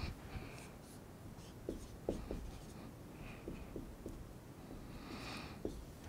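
A pen draws resonance structures during a chemistry lecture on hemiacetals and acetals, giving faint, scattered scratching strokes in short bursts against quiet room hiss.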